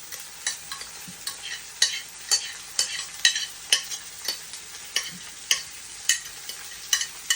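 Onions and mustard seeds sautéing in a pan, a bright steady sizzle marked by regular sharp spoon scrapes and stirs about every half second, close and without talking.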